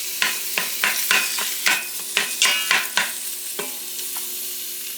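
Food frying in a pan, a continuous sizzle broken by a quick series of sharp scraping and clacking utensil strokes while stirring, close and clear, with the stirring thinning out toward the end and no talking.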